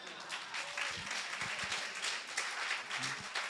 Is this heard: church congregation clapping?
yes